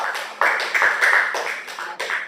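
A classroom of students claps for a classmate, a short burst of close, irregular hand claps from a small group, brisk and uneven, lasting a couple of seconds.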